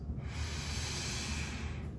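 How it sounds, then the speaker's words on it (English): Steady nasal breathing, a continuous airy rush with soft snort-like texture, close and fairly loud, with no speech over it. "nasal breathing"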